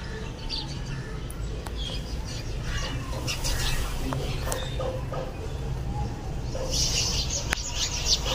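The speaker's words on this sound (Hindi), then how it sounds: "चिड़िया जो है ना उधर आई थी दरख्त पर और उड़ी है" Small birds chirp in short bursts from a tree in a village setting, brief high calls scattered over a steady low background hum, with a flurry near the end as they take off.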